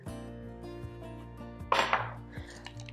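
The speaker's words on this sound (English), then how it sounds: "you're gonna go ahead and put them back in the pot that you cooked them in" Strained boiled potatoes tumble back into their cooking pot, making one sudden clattering knock with a short rattle after it, over a steady background hum.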